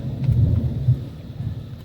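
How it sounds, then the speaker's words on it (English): Distant thunder rumbles low and soft during a rainy day, a brief rolling murmur without sharp cracks. "Hear that thunder?"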